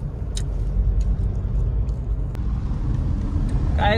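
A car drives along the Kanwari highway, a steady loud road rumble and engine drone that fills the whole stretch, with a faint voice briefly breaking through near the end.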